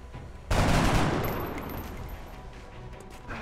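A gunshot from XCOM: Enemy Unknown bursts in loud after a short quiet lead-in, then rolls into a sustained, slowly fading rumble and crackle with no talk over it.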